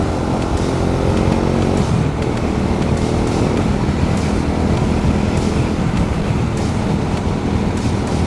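A motorcycle engine burbles continuously and loudly, a rough low rumble that stays steady throughout without pauses.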